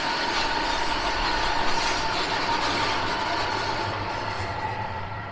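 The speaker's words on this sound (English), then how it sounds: "unfortunately we cannot switch off the noise of the trains" Trains passing through the western edge of Zurich near the highway entrance, a loud steady rumble with metallic clatter and squeal, slowly easing off toward the end.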